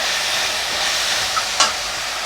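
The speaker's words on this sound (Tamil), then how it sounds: "இப்போ வதங்கின ஸ்டேஜில் நம்ம கொத்தமல்லி கொஞ்சம், புதினா கொஞ்சம் சேர்த்துக்க போகிறோம். இதையும் சேர்த்து வதக்கிக்கலாம்." Coriander and mint sautéing with tomato for a spicy tomato chutney, a close, even sizzling hiss with a couple of brief scrape or clink accents near the end and no talk.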